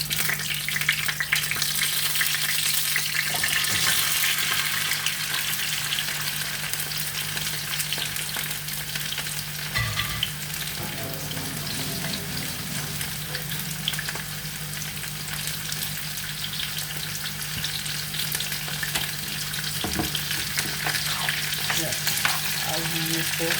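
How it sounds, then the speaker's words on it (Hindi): Taro root pieces frying in hot ghee with carom seeds in a home kitchen, a continuous loud sizzle with occasional stirring scrapes, steady throughout with no talking. "अब इसको, अरवियों को मैं ज़रा फ्राई करूँगी"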